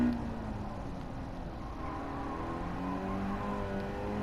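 A race car in the Gran Turismo video game accelerates out of a drift during a time trial, a steady engine drone with rising and falling pitch sweeps, moderately loud and alone without talk.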